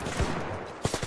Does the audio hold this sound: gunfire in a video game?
yes